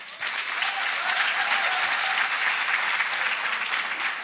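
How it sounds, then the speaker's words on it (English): A conference audience claps continuously in sustained, even applause that stays loud from start to finish. "let's just give them a round of applause"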